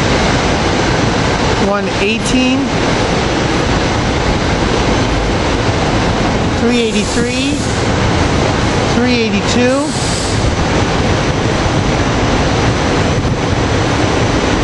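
A Norristown express train with rail cars rumbles through 30th Street Station at rush hour, a loud, steady roar and rattle of wheels on track, with brief speech from a voice heard over it.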